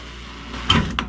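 A drill bores a hole into the subframe of a 1967 Mustang, its motor whining steadily before a couple of short, harsh grinding bursts near the end.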